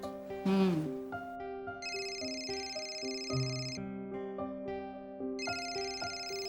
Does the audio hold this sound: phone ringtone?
yes